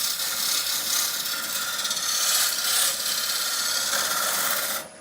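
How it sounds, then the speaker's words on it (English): Hand tool scraping the outside edge of a wooden pestle and mortar as it spins on a lathe, a steady continuous rasping rub that runs for several seconds and then cuts off abruptly near the end, with no talking. "A little bit of scraping to the outside edge."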